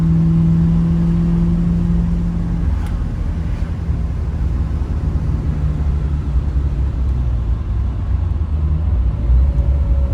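A 1979 Pontiac Trans Am with a 400 engine and four-speed gearbox drives along, its low engine rumble steady and close throughout, with gear-related pitch shifts early on.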